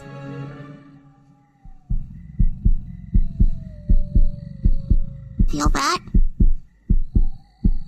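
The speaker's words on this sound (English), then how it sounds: "That's a heartbeat." Heartbeat in an animated dramatic scene, a steady series of deep low thumps in paired beats, loud and close, running under a brief spoken line and a short sharp burst partway through.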